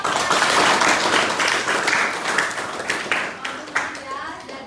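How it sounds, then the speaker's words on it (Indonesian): A class of students claps together during a school informatics lesson, the dense patter of many hands loud and close, with kids' voices mixed in over the clapping, thinning gradually toward the end. "Oke, tepuk tangan."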